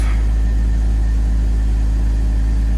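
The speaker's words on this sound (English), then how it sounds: "We'll go ahead and start her up." A car engine runs steadily at idle right after starting up, a loud, constant low rumble with a faint hum, heard alone without talk. The car is an older one that shows an engine light and a torque converter fault.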